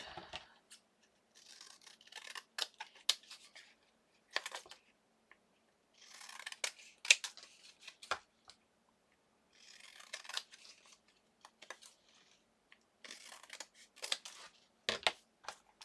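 Scissors snipping through a paper die cut at a crafting table, close and crisp in short bursts of cuts separated by quiet pauses, with no talking.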